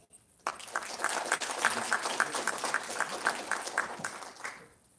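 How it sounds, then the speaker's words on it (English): Audience applause at the mYe Awards 2022 welcoming three students onto the stage, a steady crowd of clapping hands that starts abruptly, holds for several seconds and tapers off near the end. "give them one last round of applause"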